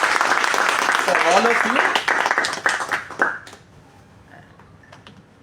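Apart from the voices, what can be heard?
class applause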